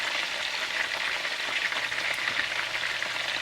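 Salt water cusk fish and frozen french fries frying together in hot oil, heard as a steady, even, close sizzle that never lets up.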